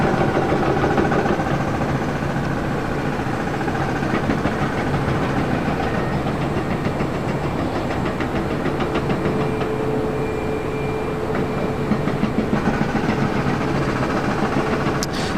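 A brand-new ANA Boeing 787-10 Dreamliner at LAX, its jet engines giving a steady broad roar that holds loud and even throughout, with no talk over it.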